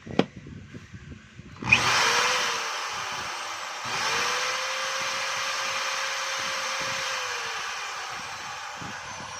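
After a sharp click, a DeWalt DWD024 half-inch hammer drill starts up during a bench test after repair, whirring steadily and close, then surging briefly to a higher, louder pitch that holds to the end.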